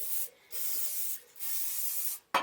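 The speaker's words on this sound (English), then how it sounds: "all we're going to do is just do a light spray of a cooking spray. I use just a generic canola oil" Generic canola oil cooking spray misting into a baking pan, with three hissing bursts close up, the middle and last lasting almost a second each, followed by a sharp click.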